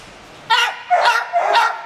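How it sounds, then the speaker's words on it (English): Three rough, raspy barks from a rat terrier in quick succession, close and fairly loud, with a breathy, strained tone, at an animal shelter. "Sounds like he has a sore throat when he barks."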